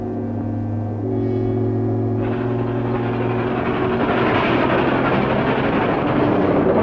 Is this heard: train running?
yes